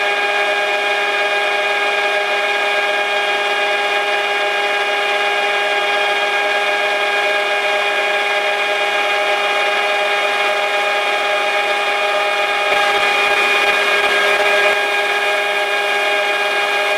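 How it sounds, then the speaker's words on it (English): A drill bit that is going dull grinds steadily through hard metal while cross drilling on a lathe with a simple jig, a constant tonal whine with strong harmonics holding for the whole stretch and a brief rougher patch near the end. "This drill must be getting dull."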